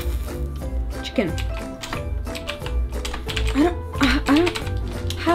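Rapid keyboard typing clicks during an online word-answer game, a dense close patter of keystrokes running under excited voices talking throughout.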